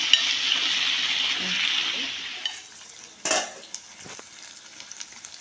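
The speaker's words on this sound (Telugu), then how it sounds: "ఆకు ఇది మంచిగా ఫ్రై కావాలి. కలుపుకుందాం మంచిగా." Fenugreek leaves fry in a pan and are stirred, giving a broad sizzle that fades partway through. A loud utensil scrape and lighter clinks follow. A faint voice may be present.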